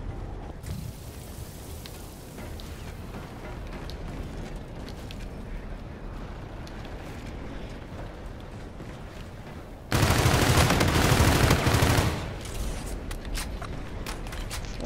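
M1 rifle fire in Call of Duty: Infinite Warfare, a loud burst of shots erupting for about two seconds after a long stretch of low rumbling game ambience.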